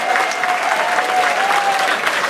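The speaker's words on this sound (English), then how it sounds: "Would everybody stand up and applaud for Representative Mark Pafford?" A standing audience at a Palm Beach County event applauds Representative Mark Pafford, the newly elected Minority House Leader Designate, with dense, loud, sustained clapping filling the room and no voices over it.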